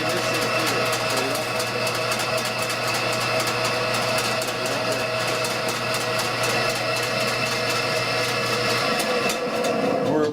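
Motor of a 50-foot power eel drain cleaner running steadily in a clogged pipe, a loud continuous mechanical drone with a low hum that drops away near the end; a voice talks over it.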